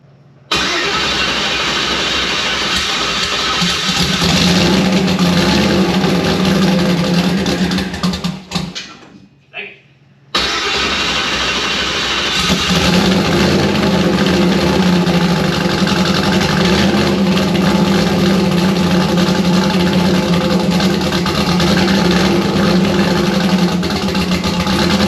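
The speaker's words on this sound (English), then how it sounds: "So I'm gonna try cranking it one more time, see if it'll idle on its own" An engine runs loudly and close for a long stretch, cuts out briefly, then catches and keeps running at a steady idle with slight throttle swells, as if started after cranking.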